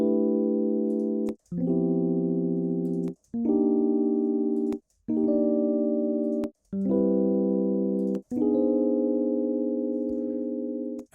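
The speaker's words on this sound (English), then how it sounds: "Here's what a chord pack sounds like." A series of six sustained synth-like chords plays one after another, each held for about two seconds with brief clicky gaps between them.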